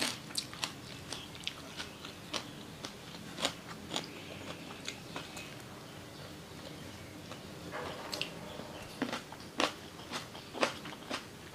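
Raw bitter gourd is bitten and chewed close up, giving a series of sharp crisp crunches at an irregular pace over quiet background, with a denser flurry of crunching near the end.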